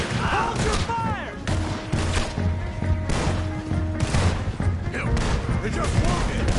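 A Red Dead Redemption 2 shootout rattles with repeated gunshots and heavy impacts, loud and close, while voices shout over the firing.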